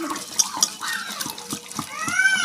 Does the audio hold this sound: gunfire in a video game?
no